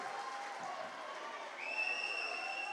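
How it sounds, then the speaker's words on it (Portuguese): An audience claps for a couple receiving a gift at a couples' lecture event, a soft, even wash of applause heard from a distance, with a sustained musical tone entering partway through. "Pode aplaudir com força."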